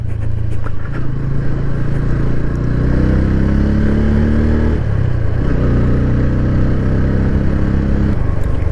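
Loud Bajaj Pulsar N150 motorcycle exhaust while riding, a continuous rumbling drone that rises and shifts in pitch as the engine revs, with wind noise, no talking.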